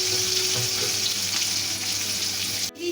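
Chopped onion sizzles in hot white oil with whole cumin in a heated wok, a steady, loud frying hiss that runs without a break, with a brief clatter near the end.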